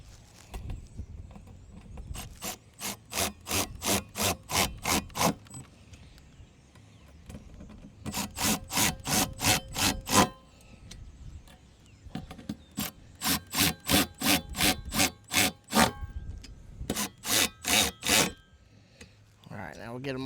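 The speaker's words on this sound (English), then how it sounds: "This will be a 5/32 Allen wrench, fits these heads, and then a 7/16 wrench or a ratchet" Ratchet wrench tightening the bolts on a dual bow mount for a boat, heard as several bursts of rapid, evenly spaced clicks close by, with pauses between bursts and low handling noise.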